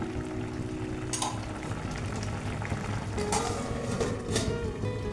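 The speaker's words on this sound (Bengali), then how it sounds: "এটা একটু ফুটুক, এরমভাবেই ফুটুক, আমি বেশি ঘাঁটবো না।" A moringa and poppy seed posto with a little grated coconut simmers in a pan, giving a steady soft bubbling and faint sizzle with an occasional light clink.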